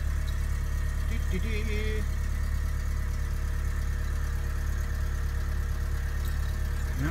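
A 2004 Mercedes CLK 200 idles with a steady, loud low hum throughout, while a voice briefly hums a short tune early on.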